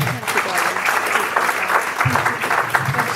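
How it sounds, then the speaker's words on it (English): Audience applause at a spiritualist mediums' presentation in Weymouth, Dorset: steady, dense clapping from a medium-sized crowd, fairly close and loud, with a few voices mixed in, running unbroken throughout. "Give a round of applause, please."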